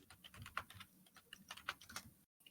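Fingers type on a mechanical computer keyboard, producing quick irregular bursts of crisp clacking keystrokes close to the microphone, ending abruptly in silence.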